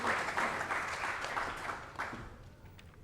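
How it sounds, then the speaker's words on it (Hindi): An audience applauds loudly at an awards-night open mic event, sustained clapping that gradually thins out toward the end. "तालियां रुकनी नहीं चाहिए।"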